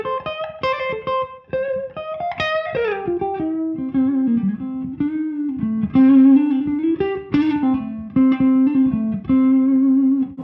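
Electric guitar played with a clean tone and the tone knob rolled back to halfway, giving a mellow, slightly darkened sound; a steady melodic line with a few sustained notes, close and at even volume with no talking.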